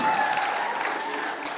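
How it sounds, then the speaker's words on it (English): Audience at a baccalaureate ceremony claps in a steady wash of applause from a mid-sized crowd, moderately loud and continuous, thinning slightly toward the end. "Yes, there were like some applause over there."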